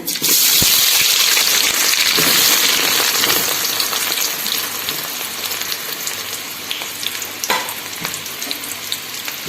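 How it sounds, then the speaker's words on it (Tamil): Sliced onions saute in hot oil with whole spices for mutton biryani, opening with a loud gushing sizzle that eases into a steadier crackle with light stirring; no voices. "வெங்காயத்தை நல்லா வதக்கிக்கலாங்க."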